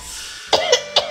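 An older woman in a Bollywood film scene coughs three times in quick succession, sharp and close.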